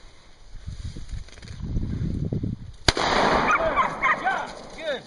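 A single sharp gunshot from a deer hunt cracks out loud and close in open woods, cutting through low murmured talk and followed by rustling and birdsong.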